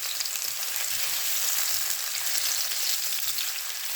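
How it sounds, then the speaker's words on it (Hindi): Two medium chopped onions frying in hot ghee give a steady, close hiss and crackle that holds even and unbroken throughout, with no talking. "अब हम इसमें डाल देंगे 2 दरमियाने साइज की प्याज"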